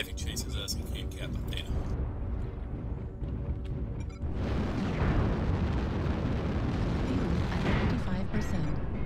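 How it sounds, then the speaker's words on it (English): A missile explosion hits in the MechWarrior Online mech combat game, a loud broadband blast at about four seconds that gives way to sustained roaring rumble and crackle, following denser game noise and clatter. "incoming missile"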